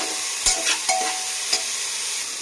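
Spiced vegetables, including capsicum, fry in a pan for a broken-wheat khichuri. A loud, steady sizzle carries several quick scrapes of the stirring utensil.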